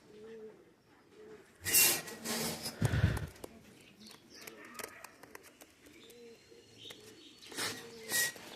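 Pakistani high-flying pigeons cooing in soft, low, repeated throaty bursts, close up, with a few louder rustling or fluttering sounds between the calls.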